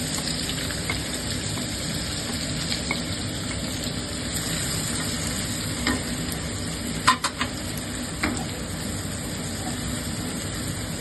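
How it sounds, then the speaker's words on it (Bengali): Chopped onion frying in white oil in a hot wok: a steady, close sizzle with occasional soft clicks of a utensil against the metal, and no talking. "এবার দিয়ে দিচ্ছি চপ করা পেঁয়াজ।"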